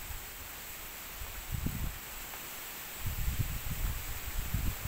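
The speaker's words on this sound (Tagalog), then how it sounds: "Malakas yung hangin." Strong wind buffets the microphone with low rumbling gusts over a steady hiss, rising and falling in bursts.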